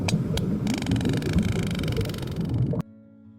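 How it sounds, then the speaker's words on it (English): Sperm whale echolocation clicks recorded underwater, a dense rapid train of sharp clicks over low watery rumble, fairly loud, ending abruptly into near silence. "In case you missed it, sperm whales sound like this."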